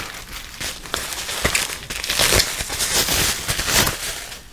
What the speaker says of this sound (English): This packing material is actually really cool. It's a metallic bubble wrap.